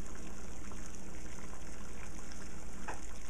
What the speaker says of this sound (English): The water is boiling now.